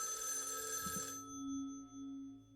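A telephone bell rings in the video game Raidou Remastered, a bright, loud burst of ringing that cuts off after about a second, leaving a low steady hum.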